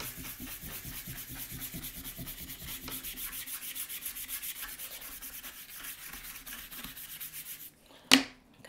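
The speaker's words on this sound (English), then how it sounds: "I'm going to be blending this using a brush. And I'm brushing in every direction" Brush rubbing back and forth across a pencil drawing on paper to blend it, a steady soft scratchy swishing close up for most of the clip before it stops, followed by one short sharp tap near the end.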